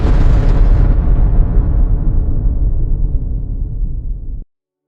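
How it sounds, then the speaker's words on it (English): An explosion rocks a restaurant with a loud, sustained, rumbling roar that rolls on for over four seconds, its top end fading slowly until it cuts off abruptly. "Suddenly, an explosion rocks the restaurant."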